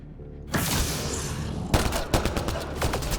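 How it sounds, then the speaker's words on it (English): Rapid bursts of gunfire from shooting an enemy in the video game Mass Effect Andromeda, a dense fusillade of loud cracks that starts abruptly and keeps going with several sharper reports standing out. "I'm good with just shooting him out."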